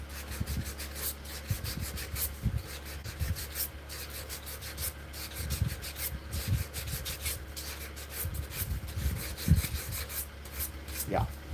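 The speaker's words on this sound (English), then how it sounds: "If I sand with the grain of the wood," Hand sanding spalted hickory wood along the grain, a soft steady rasping rub in repeated back-and-forth strokes, close and fairly quiet with no talk.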